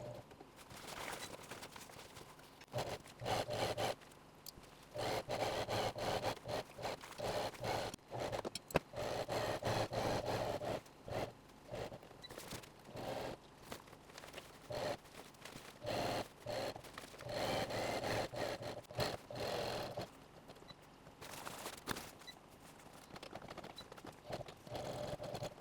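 A home sewing machine stitches slowly through several layers of nylon webbing and Cordura fabric for a duffel bag, its motor whirring in short, uneven bursts with brief pauses between runs.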